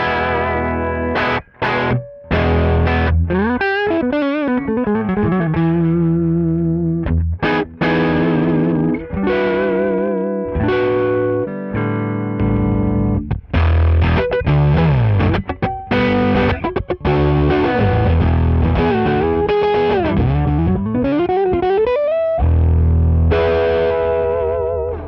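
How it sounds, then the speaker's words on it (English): An electric guitar plays through a KHDK Annihilator octave-down pedal, deep doubled tones and distorted riffs with bends and slides, loud and continuous. "An octave down pedal, as it's called, octave down, adds octave down to your sound."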